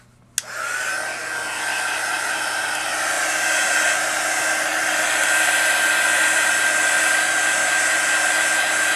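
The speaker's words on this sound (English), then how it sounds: "I'm going to hit that with the heat gun to dry it really quick" A heat gun blows steadily on glue over a mixed media canvas, starting with a sudden click and then holding a loud, even roar of airflow for the rest of the clip.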